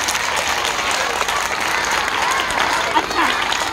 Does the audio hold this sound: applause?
yes